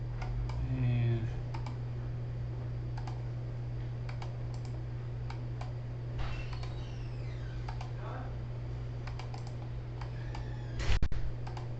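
Mouse clicks while drawing roof lines in RoofSnap roofing software, a few faint, sparse ticks spread over a steady electrical hum, with a brief voice now and then.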